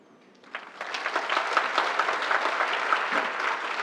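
Audience applause at an SREcon19 Asia/Pacific conference talk, starting quietly and swelling after half a second into steady, dense clapping from a full room that holds to the end.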